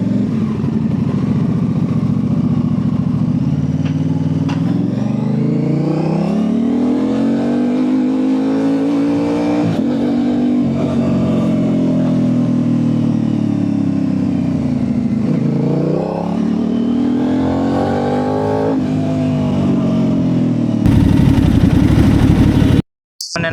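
An Aprilia RS660 sport motorcycle engine pulls hard during a top-speed run, its note rising and falling through repeated long accelerations and gear changes, loud and close with steady wind roar and no talking.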